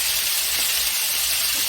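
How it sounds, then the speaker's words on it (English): A steady, even sizzle with a constant hiss of potatoes frying in a hot pan alongside browning ground beef, continuing without pause. "the potatoes are sizzling here"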